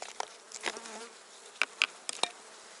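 Honeybees swarm around an open hive frame during colony strengthening work, making a close, steady insect buzz broken by sharp nearby wing flicks and brief passes, with no speech.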